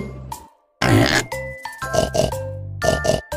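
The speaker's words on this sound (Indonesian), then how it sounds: "babi" A farm pig grunts in a short, loud, rough burst, with brighter tonal sounds following in quick repeated pulses.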